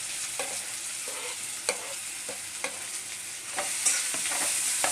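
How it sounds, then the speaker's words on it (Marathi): Two large, finely chopped onions sizzle steadily in hot oil, with a spoon scraping and stirring through them at irregular intervals, close and fairly quiet, no voices. "तेल गरम झालं आहे त्याच्यामध्ये मी हे कांदा दोन मोठे कांदे चिरून घेतले ते घालून घेते"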